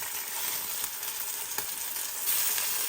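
Sea scallops sear seasoning side down in a hot pan, giving a steady, close sizzle and spatter that holds at an even level for the whole stretch, with a brief sharper pop partway through and no voices.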